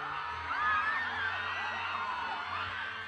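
A large crowd whoops, cheers and screams continuously at the Kadayawan festival in Davao, a dense roar of many high voices sustained throughout with a low rumble beneath.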